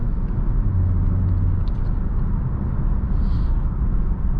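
A 2020 BMW 330i with an 8-speed gearbox cruising, its steady engine drone and road rumble filling the cabin at an even level throughout, with no talking.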